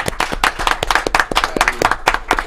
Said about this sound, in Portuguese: Palmas aí, gente, palmas aí.